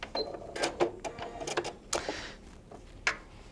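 A sewing machine joins quilt binding strips corner to corner in short, irregular bursts of stitching, close by and moderately loud, with clicks and pauses in between.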